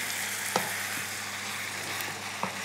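Ground meat and mushrooms for lasagna frying in a pan, a steady close sizzle with a few soft scrapes and knocks as the mixture is stirred.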